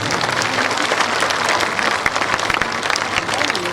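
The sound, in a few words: audience applause at a political rally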